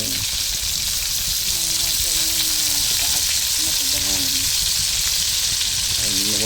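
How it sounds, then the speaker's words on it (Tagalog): Chicken and chicken feet sautéing in a hot pan, giving a loud, steady sizzle with occasional stirring scrapes and a faint voice underneath. "Gigisa na po natin yung manok."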